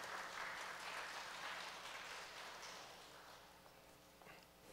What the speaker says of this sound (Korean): 경례 박수 부탁드리겠습니다